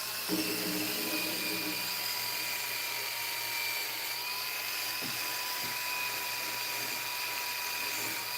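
A cordless drill with a dying battery whines steadily while cleaning a header, with a steady high tone holding throughout and no talking.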